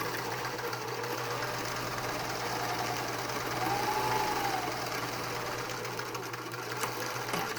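A sewing machine stitches fabric for a face mask with a continuous, close, rapid mechanical whirring and knocking hum, steady throughout with a faint brief tone midway.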